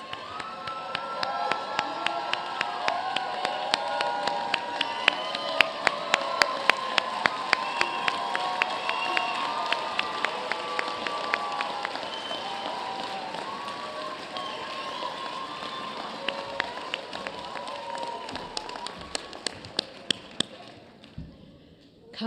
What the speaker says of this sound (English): Let us join in a round of applause for all our graduates.